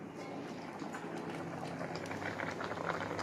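A pot of fish curry simmers on the stove with a faint, steady bubbling and occasional small pops, quiet and without talk.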